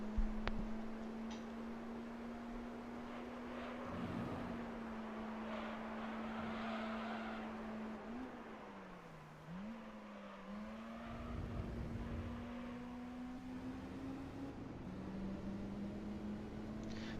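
Race car engine in the Gran Turismo 3 video game shifting up into fourth gear, a steady droning engine note that dips briefly at the shift and then climbs again, continuous and moderately loud with no talk.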